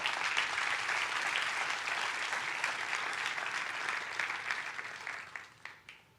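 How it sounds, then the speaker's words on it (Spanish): A church congregation gives a loud, sustained round of applause during a sermon, a dense wash of clapping that holds steady for several seconds, then tapers off into a few scattered claps. "le dan un fuerte aplauso a Dios por eso"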